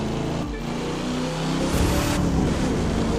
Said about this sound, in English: this just sounds like it's got a big engine